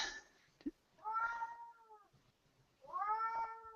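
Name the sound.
cat meowing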